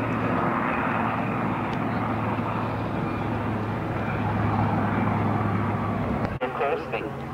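A four-engine aircraft powered by Bradford DTM-33 engines drones loud and steady at an air show, a constant low engine roar filling the whole stretch before a sharp click near the end.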